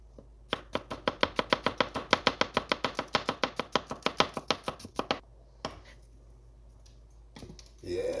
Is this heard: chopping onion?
yes